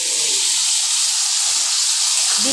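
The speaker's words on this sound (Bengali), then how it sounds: "এই কাঁকড়াগুলো আমি চাপিয়ে দিলাম ভাজা।" Crabs with their roe frying in hot oil, a loud, constant hiss and sizzle close by, with brief low bits of a voice in the background.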